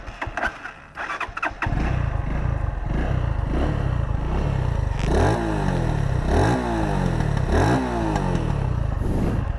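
A Runner Bolt 165R naked motorcycle with an underbelly exhaust cranks and fires up, then settles into a loud idle and is blipped through several sharp, rising revs in close succession.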